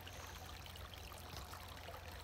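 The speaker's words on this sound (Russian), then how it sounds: "Что-то вот это здесь быстрее вода бежит, здесь медленнее." Water from a spring running into a bottle, a faint continuous trickling and splashing stream with low gurgling, heard alone without talk.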